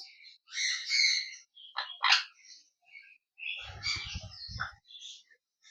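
Sun conure parrots shriek and chatter indoors in a home, with harsh overlapping calls that come in bursts between brief pauses, and a person talks over the flock partway through.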